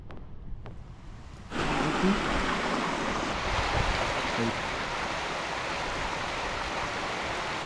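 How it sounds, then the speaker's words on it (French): A mountain stream being crossed during a mountain-bike outing, its water rushing in a steady loud broadband wash that starts abruptly and continues throughout. "Alors ça c'est le ruisseau le plus facile à traverser"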